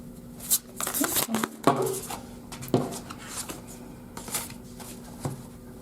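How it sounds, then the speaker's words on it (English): A deck of tarot cards is shuffled close by in quick, crisp riffles and soft slides that come in uneven bursts, with some talking alongside. "I've been shuffling your cards for like a solid minute"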